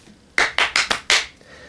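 Five sharp hand claps ring out close and loud in quick succession, the last one slightly delayed, each a crisp burst followed by a short decay in an otherwise quiet room.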